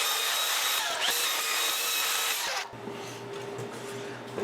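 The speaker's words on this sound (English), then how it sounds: "round the plywood over, which is going to be a whole lot easier with a sander" A power sander rounds over the edges of plywood for a bandsaw stand, a steady bright whirring hiss that runs close and loud for about two and a half seconds, then cuts off to a lower motor hum.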